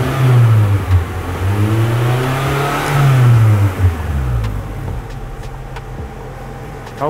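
Car engine with the exhaust resonators removed revving up and falling back, a loud droning exhaust rumble rising and dropping twice, close by, then settling to a lower hum.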